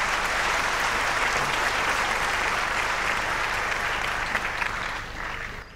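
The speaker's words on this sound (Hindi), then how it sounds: "आप सबकी भरपूर तालियों में" Sustained, loud audience applause fills an indoor ceremony hall at an event honoring an Indian jet incident, steady dense clapping that tapers slightly near the end.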